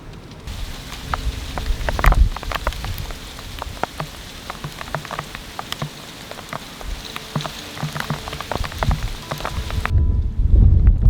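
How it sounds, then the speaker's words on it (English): Steady spring rain falls in Alaska during the thaw, a dense pattering hiss with scattered sharper drips striking a nearby surface, continuous throughout and fairly loud, with no voices. "Spring rains have arrived to Alaska."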